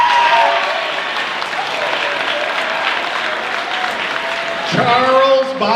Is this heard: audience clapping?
yes